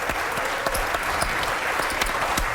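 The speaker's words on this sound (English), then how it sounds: "he's getting a round of applause for his charitable work" An audience at the World Series of Poker Big One for One Drop event gives a steady round of applause for a player's charitable work, dense continuous clapping close and even throughout.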